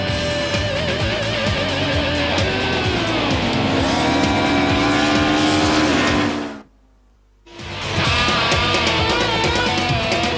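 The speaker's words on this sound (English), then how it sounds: "What a good race this is from the 2-litre cars." 2-litre Super Touring race cars at Phillip Island in 1995 roar past in a loud, continuous blend of high-revving engines with shifting pitch, cut by a brief silent gap before the engine noise returns at full strength.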